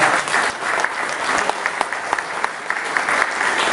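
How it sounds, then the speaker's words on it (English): Audience applause at a community planning meeting about the Gaffey Street Great Streets project: a room of people clapping steadily and fairly close, with a few sharper claps poking through the sustained patter. "Give a round of applause."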